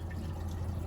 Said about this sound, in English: I'm gonna add water to the bowl.